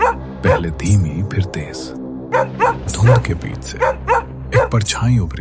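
Dogs barking as a horror-story sound effect in a deserted village lane at night, several yelping barks and whimpers repeating in bursts, loud and close, mixed under a narrator speaking throughout.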